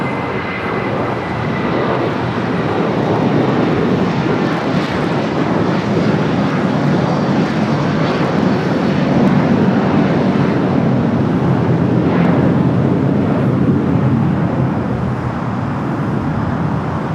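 A United airliner rolls for takeoff on runway 25 right at LAX, its jet engines a loud, steady roar that swells and holds over the whole stretch, with wind buffeting the microphone.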